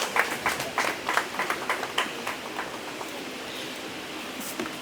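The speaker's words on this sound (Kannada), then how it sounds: "ಚಪ್ಪಾಳೆಯ ಮೂಲಕ ಅವ್ರನ್ನ ಸ್ವಾಗತಿಸೋಣ" Audience at a pilot launch event applauds to welcome one of the sponsors to the stage, a steady wash of many hands clapping at moderate distance, with sharper individual claps early on that settle into a softer, sustained patter.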